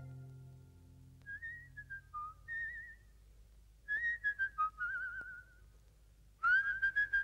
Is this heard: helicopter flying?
no